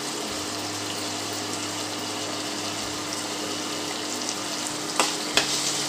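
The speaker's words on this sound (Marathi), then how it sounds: "कांदा छान परतवून घेऊ आपण आता।" Onion sautéing in hot oil with asafoetida gives a steady, close sizzle and soft stirring scrapes, with a few louder clicks near the end and no voices.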